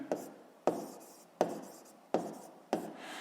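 Numbers are written down for a sixth-grade math exercise: five crisp, evenly spaced strokes of a writing tool scratch on a surface, close and alone.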